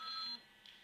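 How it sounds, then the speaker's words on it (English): An alarm beeps in a short run of high, steady electronic tones, fairly loud and close, then cuts off into quiet room tone. "that's my alarm to tell me I'm talking too long"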